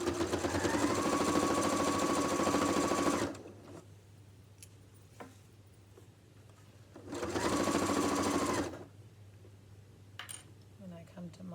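Sewing machine running two steady bursts of stitching around an apron corner, loud and close, with a pause of quiet handling and small clicks between them and a few light taps near the end.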